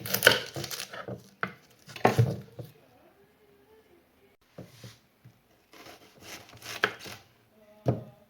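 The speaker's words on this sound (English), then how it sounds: "I'm not a big fan of chopping onions." A knife chops an onion for cooking with a few irregular bursts of close, crisp cutting and board knocks, separated by quiet pauses.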